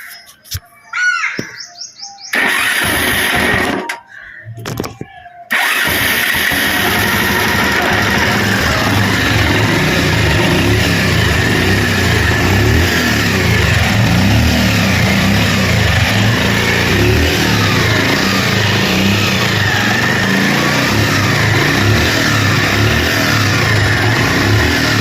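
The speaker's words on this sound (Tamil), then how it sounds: "இப்போ வண்டியை வந்து ஸ்டார்ட் பண்ணி பார்ப்போம் எப்படி இருக்குன்ட்டு." A Bajaj Pulsar 150 motorcycle after a bore kit replacement: a few short cranking bursts and gaps, then the engine catches and runs with a loud, continuous rumble and rising revs for about twenty seconds, close by, with birds chirping.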